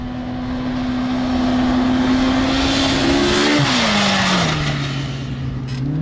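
A side-by-side UTV engine roars loud and close as the vehicle drives over a sand dune jump at Silver Lake, holding a steady drone before the pitch dips and settles lower.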